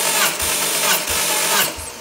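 Volvo B5204T5 2.0-litre engine from a 2004 V70 cranking on the starter during a compression test, a loud steady whirring drone with rhythmic low pulses about three per second as the cylinders compress.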